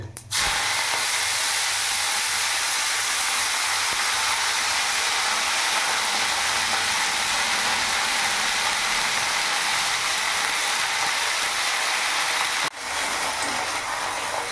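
Washed, chopped fenugreek leaves drop into hot oil with fried tempering spices, making a loud, steady, close sizzling hiss that runs without a break, except for one brief dip near the end.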